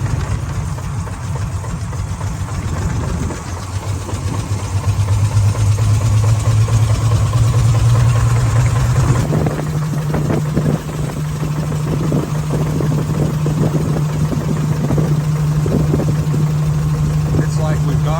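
An old car engine idles steadily with a low, rough drone that shifts pitch partway through, loud and close, running continuously.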